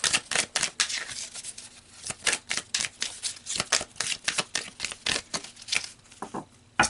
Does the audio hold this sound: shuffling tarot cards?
yes